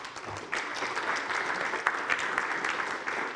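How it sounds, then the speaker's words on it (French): Audience applauding panel guests at a conference on V2G regulation; clapping starts after a brief pause and continues steadily, moderately loud and close. "On peut les applaudir aussi."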